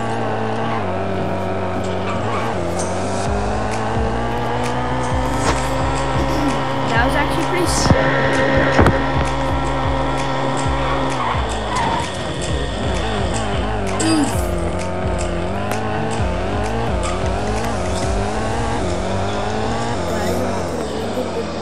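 Virtual car in Dreamcraft Car Driving Simulator, engine revving and shifting pitch continuously, with occasional tire squeals, loud and close throughout.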